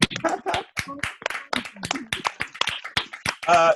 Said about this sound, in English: Can we give another round of applause, please?